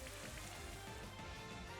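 Rain effect from the Rain Dance move in a Pokémon video game: a quiet, steady, dense hiss of falling rain that continues without a break and has no voices over it.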